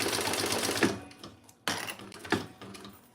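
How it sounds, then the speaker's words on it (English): A sewing machine back stitches over a key fob in two short close bursts of rapid needle clatter with a brief pause between them, with no talking. "Now I'm back stitching over that key fob just an extra little bit"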